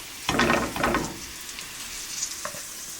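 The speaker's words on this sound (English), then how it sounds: "Got a nice sizzle." Chicken pieces frying in a hot pan, with a loud burst of sizzling as the meat goes in, then settling into a steady quieter crackle and spatter.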